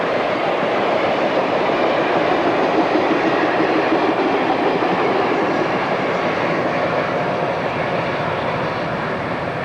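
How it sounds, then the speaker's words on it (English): A train runs by the beach in Southern California with a loud, steady rumbling roar that stays even and close for the whole stretch, no talking. "Train running right by the beach here."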